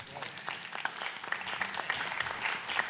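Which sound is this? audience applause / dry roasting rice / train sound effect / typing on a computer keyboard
audience applause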